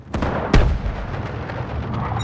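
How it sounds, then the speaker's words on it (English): Heavy artillery shells boom in a video game, one large blast after a sharper crack, with a rumbling battlefield roar continuing underneath. "Artillery barrage incoming."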